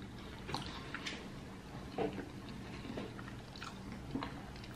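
Someone bites and chews KFC hot wings. Moist, squishy mouth sounds are close to the mic, with a few sharper bites spaced a second or two apart, quiet and with no talk.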